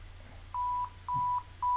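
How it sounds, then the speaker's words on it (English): Touch-tone dialing on a telephone for a call: three clear, evenly spaced beeps, each held for about a quarter second, close and loud. "we make a phone call through the phone"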